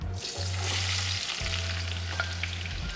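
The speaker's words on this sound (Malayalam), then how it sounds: "ഓയിൽ നല്ല ചൂടായിട്ടുണ്ട് നമുക്ക് അതിലേക്ക് സ്ലൈസ് ചെയ്ത് വെച്ച ഓണിയൻ ഇട്ട് കൊടുക്കാം" Sliced onions sizzle and fry in hot oil for a Mattancherry-style beef biryani, a steady close crackling hiss with low stove hum throughout and no talking.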